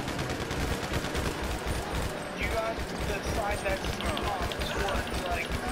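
Gunshots in a video game, a steady dense stream of rapid shots running the whole way through, mixed with busy game noise and a voice talking over it.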